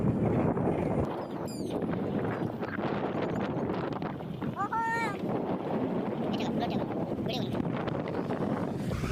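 Gusty wind roars continuously during a heavy rainstorm near the sea in Mayurbhanj, Odisha, a dense close rushing noise with buffeting on the microphone, while voices talk over it.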